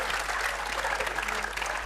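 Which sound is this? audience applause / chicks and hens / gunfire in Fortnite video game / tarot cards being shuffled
audience applause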